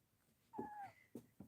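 A kitten gives a single rising meow, close and fairly quiet, followed by a couple of short soft sounds, in a room that also houses model trains.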